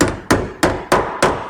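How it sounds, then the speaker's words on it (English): A body hammer strikes a car door panel five times at an even pace, each blow a sharp, close metallic knock with a short ringing decay. "Closest hammer is the body hammer."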